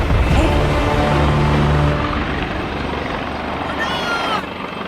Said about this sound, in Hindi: हेलीकॉप्टर को जल्दी लैंड कराओ, जल्दी।